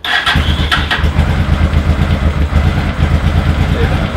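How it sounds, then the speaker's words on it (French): A carbureted motorcycle engine sputters as it turns over, catches, and settles into a loud, close, steady chugging idle. "elle va avoir du mal à démarrer celle-là"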